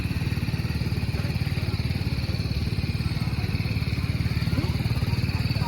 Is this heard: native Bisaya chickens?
no